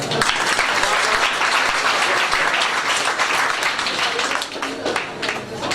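An audience at a primary school induction ceremony claps in loud, sustained applause that fills the whole stretch and tapers slightly near the end.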